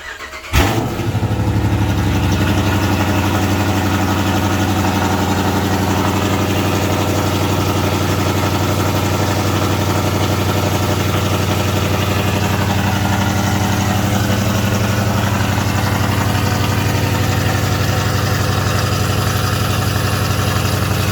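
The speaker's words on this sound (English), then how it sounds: "This is just your standard idle." A car fitted with a Borla ATAK exhaust settles into a loud, steady idle right after a brief start, its deep rumble continuing evenly and close throughout with no talk.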